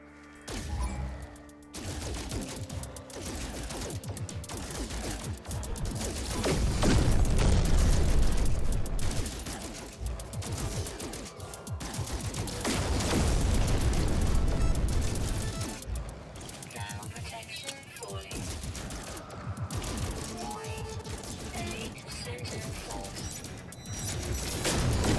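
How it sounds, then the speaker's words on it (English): Shots fired at distant enemies in No Man's Sky: dense, continuous weapon fire and crashing noise throughout, loud and busy, with a voice talking over it at times. "Let's see if I can shoot it from here."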